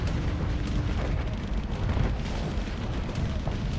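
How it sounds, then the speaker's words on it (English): Heavy space-battle weapon fire from steel Gauss cannons in the game Starsector rumbles loud and nearly unbroken, with booming shots blending into a dense, steady barrage. "Those steel Gauss cannons are doing a bit of a number on our flux."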